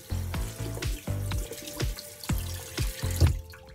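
Water runs from a tap into a kitchen sink to rinse off powder, a steady flowing wash heard close by with rhythmic music running underneath.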